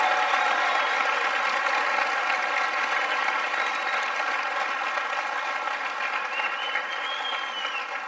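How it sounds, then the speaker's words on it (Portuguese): Sustained audience applause fills a large event hall at a motivational talk, steady dense clapping from start to finish that fades slightly at the very end, with no voices over it. "então receba essa salva de palmas"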